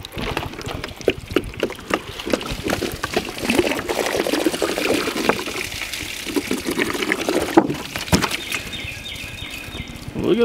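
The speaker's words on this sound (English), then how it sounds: "Can I pour the water out?" Water poured out of a plastic jug, a continuous gurgling splash with irregular glugs, close and fairly loud, rising toward a fuller pour near the end with no voices.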